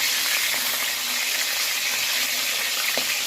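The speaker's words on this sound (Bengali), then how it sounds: "ইলিশ মাছের মাথাটা খুব ভালো করে কড়া করে ভাজতে হবে।" A hilsa fish head fries in hot oil until crisp, giving a loud, steady hiss of sizzling that fills the whole stretch without pause.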